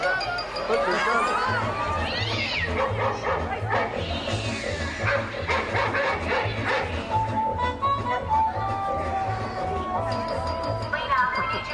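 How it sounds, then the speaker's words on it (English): Dogs barking and yipping at an animal show at Universal Studios Hollywood, several sharp barks over a busy crowd murmur and a steady rhythmic backing track, with people chattering throughout. "Look, there's dogs."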